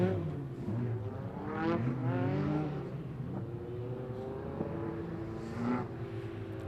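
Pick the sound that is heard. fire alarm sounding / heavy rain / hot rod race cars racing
hot rod race cars racing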